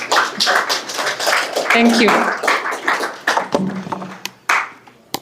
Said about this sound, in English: let us clap for Mr. Mushemi as he comes